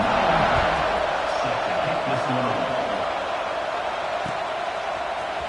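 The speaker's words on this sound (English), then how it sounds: "this crowd is buzzing after that last score" Stadium crowd in the College Football 26 video game, a steady loud roar and murmur that holds evenly throughout after a score, with no distinct cheers standing out.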